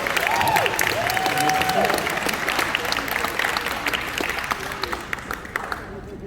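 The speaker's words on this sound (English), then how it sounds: "Round of applause for the coasters, guys." Audience applause at the Six Flags Magic Mountain Fright Fest 2021 panel, a dense steady wash of clapping from a crowd that tapers off toward the end, with a few voices calling out faintly underneath.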